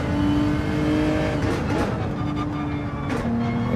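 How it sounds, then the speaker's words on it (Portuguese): A race car engine in Gran Turismo 7 droning loudly and close, with its pitch climbing as it revs and then stepping down briefly at a gear change before pulling again. "Upshifting."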